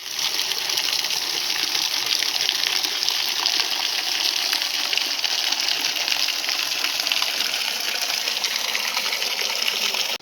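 Water from a village spring spout gushes steadily into a mountain stream, a loud continuous rushing with no voices over it.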